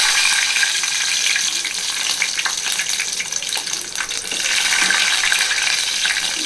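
Garlic cloves crackle and sizzle in hot oil alongside popped mustard seeds and whole peppercorns, a loud, steady, close frying hiss with faint stirring, no voices.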